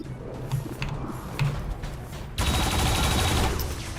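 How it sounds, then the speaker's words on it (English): Heavy gunfire aimed at a heavy mech in XCOM 2: quieter game sounds give way to a loud, sustained burst of shooting that continues to the end. "I think we're gonna open fire on the heavy mech down here."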